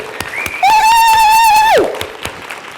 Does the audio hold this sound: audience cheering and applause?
yes